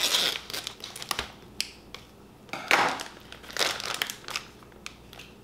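Plastic ingredient packet crinkles and crackles in sharp bursts as hands twist and tug at it, close and fairly quiet, with irregular rustles and pauses.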